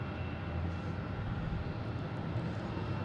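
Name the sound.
airplanes at Boston Logan International Airport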